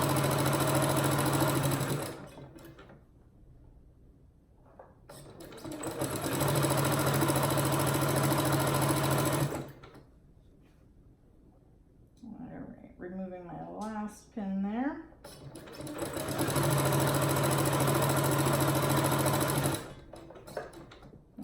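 A sewing machine stitches a pillowcase in three rapid, whirring bursts separated by pauses, with a person talking briefly between the second and third runs.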